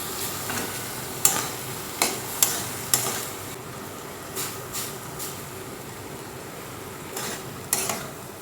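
Leftover cooked rice goes into a pot of simmering sugar syrup. Sharp metallic taps and scrapes of stirring repeat at an uneven pace over a soft bubbling hiss.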